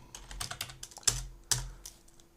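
Typing on a computer keyboard, a quick run of close clicks and key taps in an uneven rhythm, with two louder strokes near the end.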